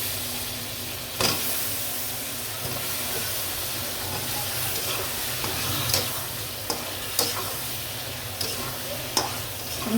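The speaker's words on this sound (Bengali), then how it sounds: "আমি পটল আলু দিয়ে ভালো করে কষিয়ে নেব" Potatoes and pointed gourd fry in spice masala with a soft continuous sizzle and hiss, broken by occasional sharp scrapes and clinks of a stirring utensil, close by with no talking.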